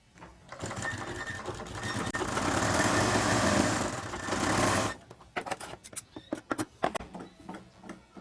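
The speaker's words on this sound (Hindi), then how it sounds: "यहाँ पे पक्का करें और पैर की सिलाई लगा दे।" A sewing machine stitches baby shirt collar pieces: a loud, continuous whirring run of about four seconds, followed by a string of short, stop-start bursts of stitching and clicks close by, with no talking.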